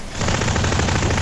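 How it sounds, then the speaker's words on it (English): Gunfire in the online shooter APB Reloaded: loud, sustained rapid automatic bursts that fill the whole moment with dense crackling shots, with no talking. "Who the hell's gunfire is that?"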